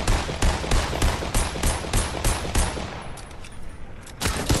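Rapid bursts of video game gunfire in a match where players shoot together, loud and close, with shots rattling in quick clusters before a brief lull and a final volley.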